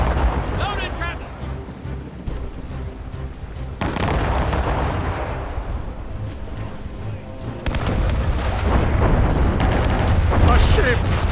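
Ship cannons firing in the naval game Assassin's Creed Rogue, a dense roar of booming blasts that surges in waves across the stretch, loud and close.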